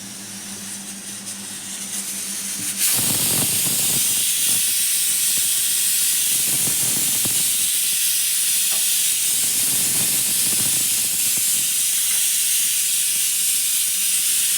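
Ration rice on a hot tawa griddle gives a loud, sustained steam hiss that starts abruptly and holds steady, with faint crackling underneath; no voices.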